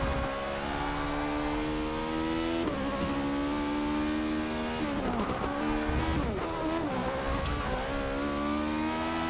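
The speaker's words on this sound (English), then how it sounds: "let's see what this Toyota can do. Sounds pretty good." A Toyota race car in Forza Motorsport 6 accelerates hard, its engine revving up through the gears with loud, continuous whine, brief shifts and a touch of tire squeal, alone with no talk.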